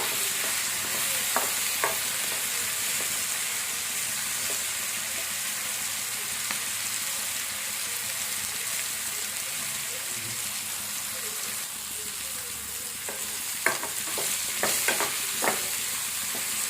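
Chopped onions fry in a pan for a North Karnataka-style green tomato chutney, giving a steady, even sizzle throughout with a few faint clicks and taps of stirring, no voices.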